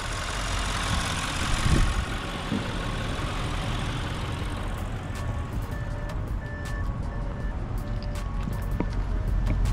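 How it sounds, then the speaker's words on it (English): A low, steady engine idle from a 2016 Audi A8 Sport's exhaust rumbles throughout, with a few faint electronic beeps sounding in the background. "Very quiet on the rear as well with the exhaust note."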